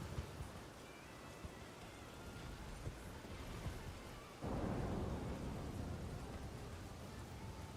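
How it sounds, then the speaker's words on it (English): Rain hisses steadily in a video game. Low thunder from wyverns' lightning rumbles beneath it and swells louder about halfway through. No one speaks. "Yeah, so we got wyverns doing lightning here."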